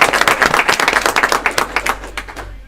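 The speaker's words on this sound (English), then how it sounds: "Okay, still clap." Scattered audience clapping at a school board meeting honoring coaches, a short run of hand claps from a small group, fairly close, that thins out and fades after about two seconds.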